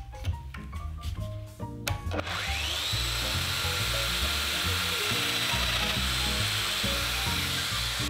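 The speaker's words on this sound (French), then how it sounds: "Je branche ensuite ma machine, que je branche sur un aspirateur asservi." Festool Domino joiner cutting into wood, run with an auto-start dust extractor, steady loud motor whine and extractor roar held continuously after a few short clicks and handling knocks at the start.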